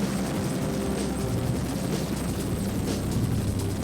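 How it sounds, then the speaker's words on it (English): An EH-101 helicopter, a roughly 15-ton military machine, flies with a steady, loud rotor and turbine roar that fills the whole stretch without pause. "The EH-101 moves through the air like a hummingbird."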